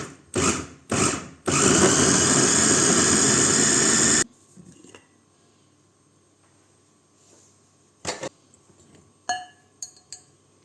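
A blender whirs loudly for a few seconds while mixing chopped butter into dough for kətə, after two short pulses; then it stops, leaving quiet room sound and a few scattered clinks and knocks.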